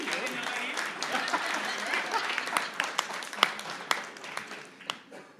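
Audience applause at a startup pitch event, a rolling crowd clap with scattered louder individual claps standing out, and voices murmuring faintly underneath.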